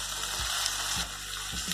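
Pumpkin, brinjal, potato and curry leaves sauté in a pan for sambar, giving a steady close sizzle with a few soft thumps of stirring.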